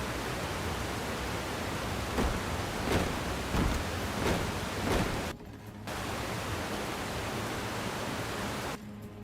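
Video game waterfall, a loud, constant rushing roar broken by brief bursts of sharper clatter, cutting out abruptly twice before resuming.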